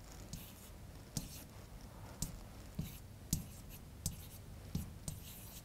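Pen strokes drawing a chemical structure during a chemistry lesson: faint, intermittent scratches and taps spaced about a second apart over a low background hiss, without speech.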